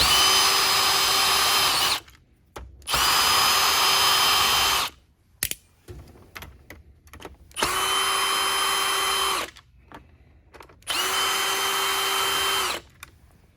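A power drill backs screws out of a Hoover Air vacuum, four separate high-pitched whirring bursts of a few seconds each, loud and close, with small clicks and handling noises between them.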